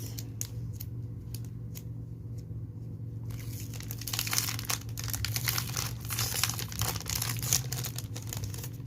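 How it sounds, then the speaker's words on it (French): A craft item is worked out of a plastic pouch, making a steady crinkling, rustling plastic sound that grows louder and busier in the second half, close by over a low background hum. "Je vais essayer de le sortir de la pochette."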